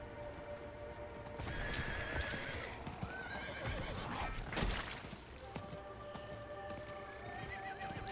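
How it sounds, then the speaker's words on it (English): Horse in the game Diablo IV whinnies loudly and close while hooves clip-clop in a steady rhythm over a game soundscape, with no talking. "Let's get on our horsey."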